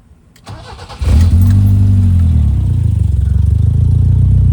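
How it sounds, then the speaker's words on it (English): A BMW E30 with an M10 engine and a leaking exhaust cranks briefly, then catches and settles into a loud, steady, slightly uneven idle close by, with no talk. "Okay, let's start her up so you can hear the exhaust."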